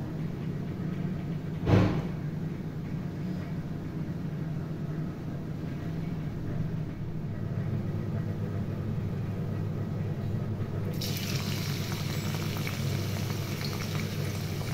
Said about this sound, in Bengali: তেল গরম হয়ে গেছে বন্ধুরা। কিছুটা পেঁয়াজ আমি দিয়ে দিলাম বেরেস্তা করার জন্য।